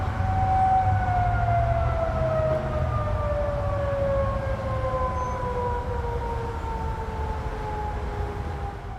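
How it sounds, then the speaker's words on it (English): Tornado sirens in Denver wail continuously in the distance, their steady tone slowly falling in pitch over a low rumbling background. "Denver, these are tornado sirens going off right now."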